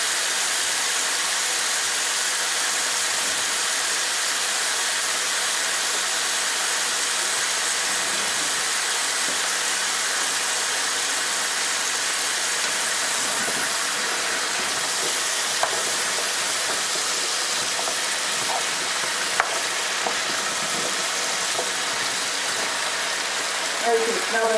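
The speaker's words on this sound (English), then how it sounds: "Sounds so cool when he starts to saute" Vegetables sautéing in a hot pan on a cooking show set give a steady, loud sizzling hiss that runs without a break, with faint voices and a few small clatters underneath.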